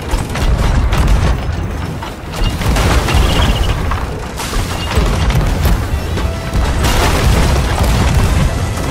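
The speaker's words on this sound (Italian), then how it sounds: "Sto provando a darvi tiro per cannoni di destra." Ship cannons fire in a naval video game, a dense string of loud, close booms and crashing impacts rolling on continuously with mechanical clatter and no clear pause.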